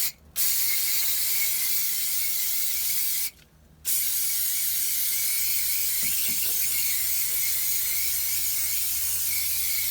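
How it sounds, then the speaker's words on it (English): Brake cleaner sprays in long continuous hissing bursts from an aerosol can as it rinses cleaner off an AC coil, loud and close, with two brief pauses between blasts. "Basically rinsing it right now of all the cleaner, but with brake cleaner."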